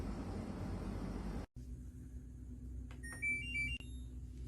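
An LG front-load washing machine gives a click followed by a short series of high electronic beeps, rising in pitch, over a quiet background hum.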